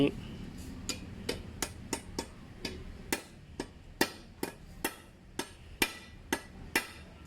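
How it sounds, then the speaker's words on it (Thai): Repeated sharp metallic hammer strikes crimp a cable terminal lug, ringing out in a fairly steady rhythm, about a dozen blows, each clear and close with a short ringing decay. "เอาค้อนตีนะครับนี่"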